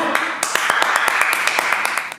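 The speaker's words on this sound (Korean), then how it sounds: "박수!" An audience claps at a fan meeting for a 2PM member, a dense burst of handclaps lasting about two seconds, steady and lively, then cutting off sharply.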